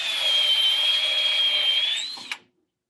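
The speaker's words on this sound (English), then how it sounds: "we're going to countersink through the web frame on the top so we can put a screw in there" A power drill spins a countersinking bit through the top of a wooden web frame in a cabinet, giving a steady high whine for about two seconds that slows and cuts off, with a brief clunk at the end.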